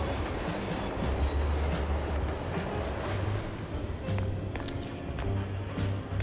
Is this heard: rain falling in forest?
no